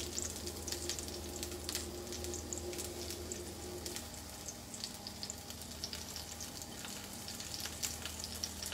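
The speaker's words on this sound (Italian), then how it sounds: "la mia piastra qua è calduccia non è calda è calduccia e ci vado a posare i miei gamberi faccio cuocere giusto un attimino" Shrimp frying on a warm, not fully hot griddle: a steady, fairly quiet sizzle with soft crackles and pops scattered throughout, heard alone.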